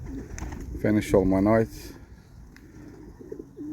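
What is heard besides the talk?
young racing pigeons cooing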